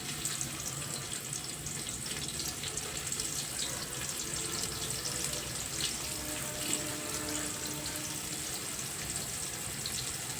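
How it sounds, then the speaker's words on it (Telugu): Long sliced onions frying in hot oil until brown for a spicy chicken dum biryani, a steady dense hiss of sizzling that holds at an even level throughout, close and continuous with no talking. "ఇవి దోరగా ఆయిల్లో వేసి వేయించేసుకుందాం బ్రౌన్ కలర్ వచ్చేంతవరకు"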